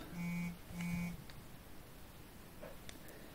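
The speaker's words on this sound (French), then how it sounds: "J'ai des alarmes TikTok." Two sustained electronic alarm beeps, each about half a second, sound close and clear from a phone notification, followed by quiet room noise.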